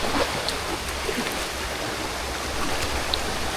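Rushing water at Litlit Falls in Silang, Cavite, a steady broadband wash of the waterfall and stream, close and continuous with no talk.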